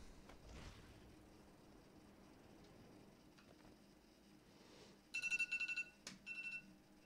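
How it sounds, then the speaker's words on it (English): An alarm in the video game Batman Arkham Asylum rings in a few quick bursts of bright electronic tones near the end, after a quiet stretch of faint game ambience and soft knocks. "Oh, that was just an alarm."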